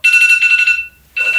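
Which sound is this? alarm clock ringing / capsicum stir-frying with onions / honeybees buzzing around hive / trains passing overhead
alarm clock ringing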